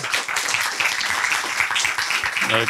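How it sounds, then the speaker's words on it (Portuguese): Audience applause at a biotech startup demo day, a moderate patter of clapping across the whole stretch, with a voice starting briefly near the end. "Uma salva de palmas para o Anísio, por favor."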